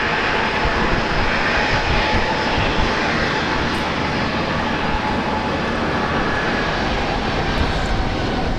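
Jet airliner engine roaring steadily at Brisbane Airport near runway 19 right, a loud continuous broadband rumble that holds throughout with no pauses and no talk.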